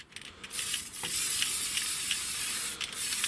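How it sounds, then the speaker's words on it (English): An aerosol can sprays paint onto a model Escort RS 2000 in short, light, close hissing bursts, with brief pauses between them. "it'll just be a series of light sprays now"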